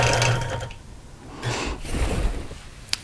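A sewing machine quilts a strawberry basket quilt block in short whirring runs, stopping and restarting, close and steady with no talking.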